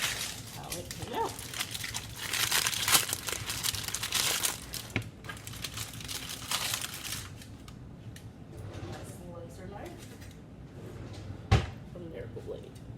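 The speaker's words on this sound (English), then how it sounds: "I'm going to put it right here on this cutting board and cut it open to see" A knife saws through a freshly baked sourdough loaf on a cutting board, making loud, dry crackling and crunching for several seconds, then quieter rustles and a sharp knock on the board.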